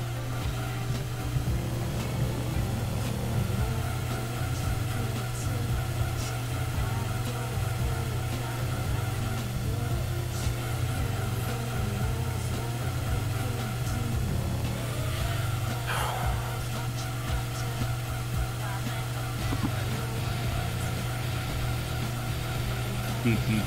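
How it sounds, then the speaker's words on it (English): A Subaru Impreza races in Gran Turismo 2, its engine droning steadily and loudly throughout with a constant low hum, brief tire scrubs and shifts in pitch, and a voice talking over it. "And we're driving the Impreza."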